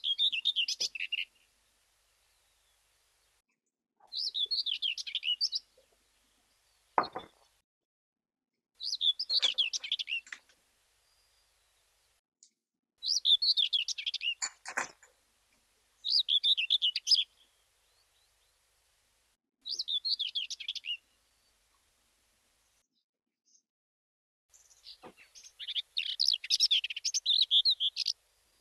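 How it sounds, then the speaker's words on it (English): A common whitethroat sings short, scratchy, hurried phrases, each burst lasting a second or two and separated by quiet gaps, repeated about eight times, clear and fairly close with no voices. "well, they're both the white throat songs."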